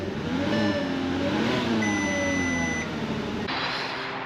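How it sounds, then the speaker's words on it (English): A 2004 Volkswagen Touareg engine runs at a steady idle close by, with an electronic chime beeping from the dash partway through and a faint whine above the low rumble. "Let's fire it up again, see what it does."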